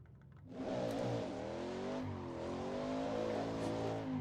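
A race car at Le Mans pulls away under hard acceleration, engine note climbing steeply through rising harmonics, loud and close, then settling into a sustained high roar, with no talking.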